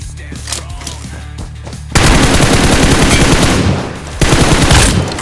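Gunfire in PUBG Mobile comes as loud, dense bursts of rapid automatic shots close by, two long sustained volleys with lighter scattered shots before them.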